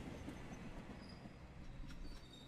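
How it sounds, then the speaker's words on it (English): A trolley train rolls along in the video game Trolley Problem, Inc., a steady rumbling rail clatter with faint squealing wheels, alone and fairly quiet throughout. "Stop the train. Go stop the train."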